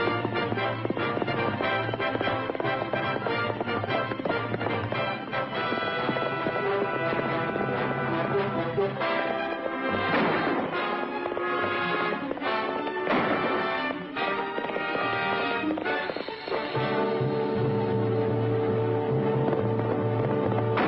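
Horses gallop across canyon country in a continuous rhythmic drumming of hooves, set against a loud orchestral western score that runs throughout.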